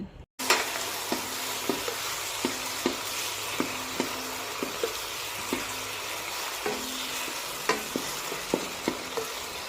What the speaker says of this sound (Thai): เราจะใช้ไฟกลางนะคะ ในการผัดเห็ดนะคะ